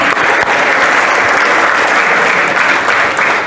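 Steady applause from a church congregation during a worship service, a dense, continuous wash of many hands clapping at close range with no speech over it.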